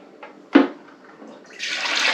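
Brisket juice from a pellet smoker is poured through a strainer into a measuring cup: a soft knock comes first, then a steady, close liquid splash that grows and holds to the end.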